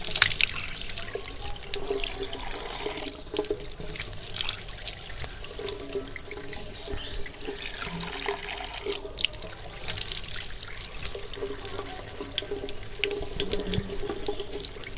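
A water tap runs steadily into a sink during a face wash for ablution, a continuous rushing splash with irregular drips and splatters as hands move through the stream, no voices.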